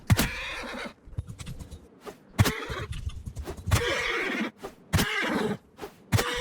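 Horses whinny and neigh repeatedly in the video game Mount & Blade 2: Bannerlord amid a battle, several loud, close calls breaking through a busy backdrop of hooves and combat noise.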